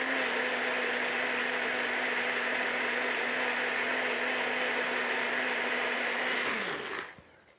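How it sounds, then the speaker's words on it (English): A blender whirs steadily at high speed through a thick, creamy green crema for about seven seconds, a loud, constant motor hum over a rushing blade noise, then winds down and cuts off near the end. "get the blender going"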